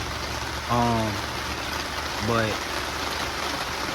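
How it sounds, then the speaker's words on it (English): Heavy rain falls outdoors as a steady, dense hiss that fills the whole stretch, with a voice briefly speaking over it twice. "it's starting to rain hard"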